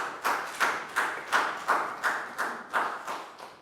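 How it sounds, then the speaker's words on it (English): Students in a classroom clap together in a slow, even rhythm, about ten sharp claps roughly a third of a second apart, close and clear with no talk over them. "a big round of applause for Prel"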